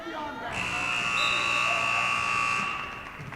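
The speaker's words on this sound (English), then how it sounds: "the buzzer is going to go off in about 1 second" A loud buzzer ends a period at a varsity boys' high school wrestling match in a gym, sounding as one sustained harsh electronic tone for about two seconds under crowd noise and an announcer talking.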